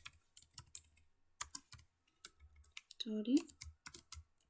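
Computer keyboard typing while entering HTML code, close and moderately loud, in short irregular bursts of clicks, with a brief spoken word partway through.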